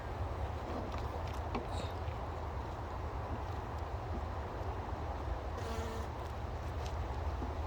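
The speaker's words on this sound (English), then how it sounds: "they're very docile bees, not attacking at all." A low, steady buzzing hum of many bees, continuous and fairly faint, with no voices.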